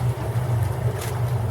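A swamp tour boat's engine runs steadily at close range in a Louisiana swamp near Slidell, a constant low drone with wind noise over it and no talking.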